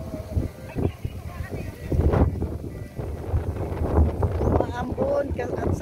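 Strong gusty wind from a low-pressure system buffets the microphone outdoors at a garden restaurant in Sibulan, Negros Oriental, with low rumbling roars, rising and falling continuously, with faint talking mixed in.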